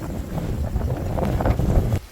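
Strong wind blows outdoors and buffets the microphone with a loud, rough, continuous rumble. It swells in gusts and cuts off abruptly at the end, with no voices.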